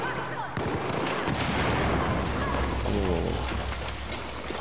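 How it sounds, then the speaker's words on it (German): Gunfire in Battlefield 4 rattles as rapid overlapping bursts and scattered shots throughout, a dense mid-distance firefight with constant rumble and debris, no clear talk over it. "Was schießt da?"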